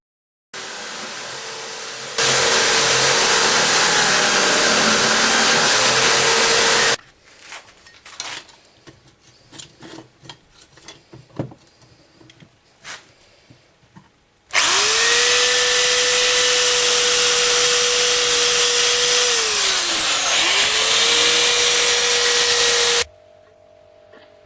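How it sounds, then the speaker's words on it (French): A motorcycle fork yoke is brushed vigorously to strip paint and the oxide layer, making a loud, steady abrasive whirring for several seconds, then quieter handling clatter, then a second long whirring run that dips briefly in pitch. "Le travail débute par un brossage énergique pour enlever la peinture et aussi la couche d'alumine"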